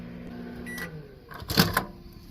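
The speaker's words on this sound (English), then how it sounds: "I'm going to leave this microwave open and let the smells vent out." A microwave oven at a teardrop trailer campsite that has been heating turkey, its door opening with a soft latch click and clunk, then a brief hum and faint clatter, all heard close and quiet.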